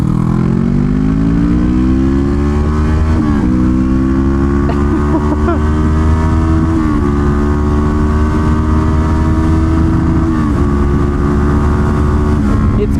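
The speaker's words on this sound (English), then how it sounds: "Oh yeah, get this urban athlete of a motorcycle." A Suzuki GSX 250R motorcycle engine drones loudly from onboard while riding, its steady buzzing tone climbing in pitch and then dropping at each gear change, repeating several times.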